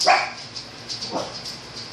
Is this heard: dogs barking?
yes